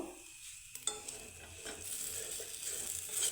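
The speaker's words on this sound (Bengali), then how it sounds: "স্ন্যাক্সগুলো আমি খুব সুন্দরভাবে নাড়িয়ে চাড়িয়ে মিক্স করে নেব" Boiled snacks being stirred and tossed in a pan, with scraping spoon sounds and a light sizzle that builds steadily after a brief quiet start, no talking.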